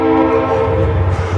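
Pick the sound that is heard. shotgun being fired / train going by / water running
train going by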